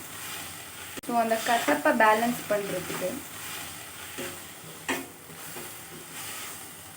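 Vallarai keerai greens with tamarind sautéing in a pan for chutney give a steady, soft sizzle throughout, with a voice briefly sounding over it early on and a few faint clicks later.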